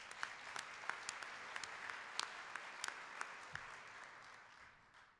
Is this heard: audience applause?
yes